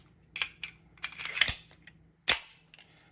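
Metro Arms 1911 pistol dry-firing on snap caps: a run of sharp metallic clicks and snaps from slide and hammer, several quick ones, then a pause and a louder final snap, close and isolated with no talk.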